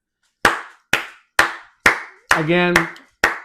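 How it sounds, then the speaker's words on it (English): Single sharp hand claps in a kitchen, six crisp slaps spaced about half a second apart, close and loud, with a brief spoken word overlapping partway through. "I don't clap often."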